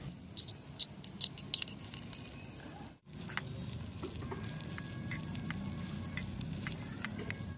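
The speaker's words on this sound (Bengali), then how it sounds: "আমার টমেটোটাও ভাজা হয়ে গেছে।" Chopped tomatoes fry in a pan with a soft, continuous sizzle broken by scattered crackles and small pops, close by, with a brief dropout near the middle.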